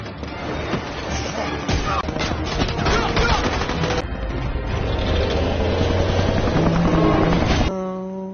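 A helicopter's rotor chops steadily amid rapid bursts of gunfire and loud action noise, ending with a sustained tonal hum.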